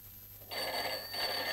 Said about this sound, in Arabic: محدش يرد على التليفون.